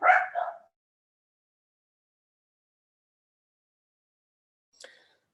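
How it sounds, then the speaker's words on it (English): Dogs give a short burst of close barking at a household, then a faint brief yip several seconds later, with silence between. "my dogs are barking"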